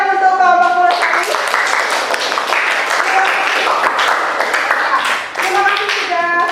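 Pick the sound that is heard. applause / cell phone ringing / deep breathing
applause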